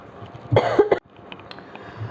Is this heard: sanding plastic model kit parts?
no